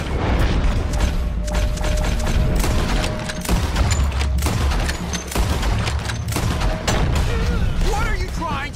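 Gunfire rattles through a Red Dead Redemption battle against army troops and a hilltop cannon, dense volleys and booming shots layered continuously under shouting voices.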